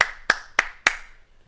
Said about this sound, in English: Station master applauds.